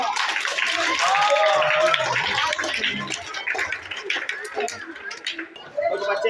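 Children at a school Teachers' Day function clap their hands in a loud, sustained round of applause, with chatter and voices mixed in as the clapping continues and thins slightly toward the end.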